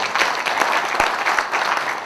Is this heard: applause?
yes